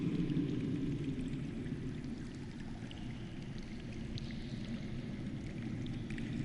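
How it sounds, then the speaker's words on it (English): Running water flowing underground in a Game of Thrones video game, a steady low rushing wash that holds constant throughout, with no other sounds on top. "Listen. That's water. I hear water. From underground."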